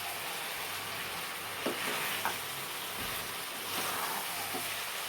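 A spoon scrapes and stirs ground spices into chicken in a hot pan, with a constant sizzle and a few sharp clinks of utensil against metal, no voices.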